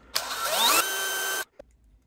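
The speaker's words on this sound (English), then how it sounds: "So that's super easy to drill these two holes." A power drill with a 1/16 inch bit bores small holes in a 3D printer part, a loud whirring burst rising in pitch for about a second then cutting off abruptly, followed by a faint click.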